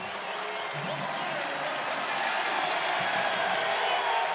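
Crowd at a Virginia Tech college wrestling dual against Oklahoma State, a steady roar of cheering and applause filling the arena, with a commentator talking over it.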